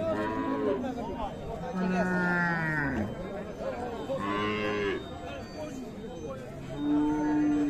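A Friesian cow and her bull calf at a cattle market in Ranigonj, Dinajpur, lowing in several long drawn-out calls, near and loud, with crowd chatter behind.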